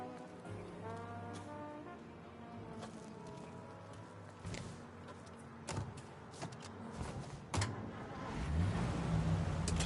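A car in Mafia Definitive Edition drives along with a low engine drone, a loud horn-like tonal blast early on, and scattered clunks, rising toward the end as the engine revs.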